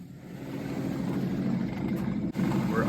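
A 1969 Chevrolet Camaro SS V8 engine idles on and on at a fairly high, even pace, a steady hum with a brief dip near the end and no voices.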